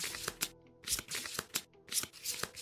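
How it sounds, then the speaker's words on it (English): Board game cards for a tabletop campaign are riffled and shuffled in several quick, crisp bursts close by, with brief pauses between shuffles. "we'll shuffle these up."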